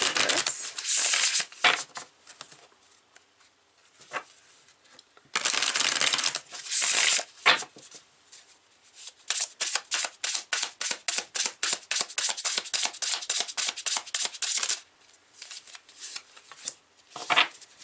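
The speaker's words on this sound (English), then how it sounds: "I'm going to pull a card from the Sacred Oracle to see what else they have to add to this." Cards from an oracle deck being shuffled in repeated close, crisp riffling bursts, ending in a fast run of rapid flicks as one card is pulled.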